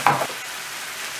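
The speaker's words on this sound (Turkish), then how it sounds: "domatesleri atıyorum. Şöyle bir güzel karıştırıyorum." Diced tomatoes stirred into browning minced meat in a frying pan give a short scrape and sizzle at the start, then a soft, steady frying hiss carries on alone.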